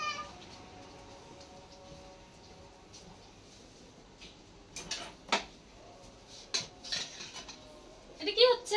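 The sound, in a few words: pots and utensils while cooking rice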